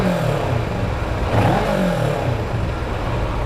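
A motorcycle engine revs close by, rising and falling in a short, rough burst with a clattering edge. No one speaks.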